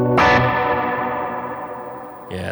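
Guitar played through a Coffee Shop Pedals Cortado stereo reverb pedal on its hall setting: a struck chord rings out with a long, wide, slowly fading wash of reverb, followed by another note starting at the end.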